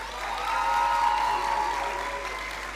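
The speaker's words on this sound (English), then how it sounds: "And you can give them a round of applause at this time." Steady applause from an audience at a school valedictory service, honoring parents, filling the hall evenly for a few seconds without speech on top.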